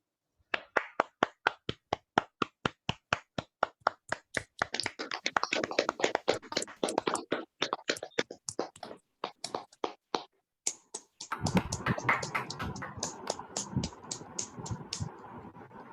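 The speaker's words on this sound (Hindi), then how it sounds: "तो अपने आप को अनम्यूट करके आप ताली बजा सकते हैं।" Participants in an online meditation session unmute and clap: separate, crisp claps come at first, then they thicken into rapid overlapping applause that fades out.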